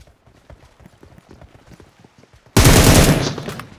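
Gunfire in a battle royale video game: light rapid footstep-like taps at first, then a sudden loud, dense burst of shots that continues to the end and fades slightly.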